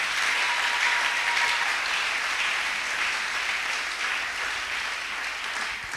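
A church congregation applauds and acclaims during a sermon, dense sustained clapping filling the space steadily for the whole stretch, loud and close with no break.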